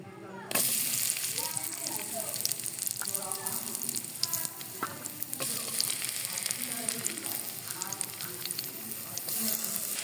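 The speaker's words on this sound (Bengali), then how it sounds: "আমি পেঁয়াজটা বেরেস্তা করে নিব।" Sliced onions fry in hot oil until golden brown, a steady loud sizzle with occasional stirring clatters from a spoon in the pan, continuing close up for the whole stretch.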